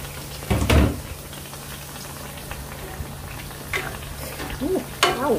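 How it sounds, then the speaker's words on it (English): Soft sizzling as water is added to curry chicken frying in a pan, under a faint steady hum, with a few sharp clanks and stirring scrapes breaking in near the start and end. "So now I'm adding water to the chicken."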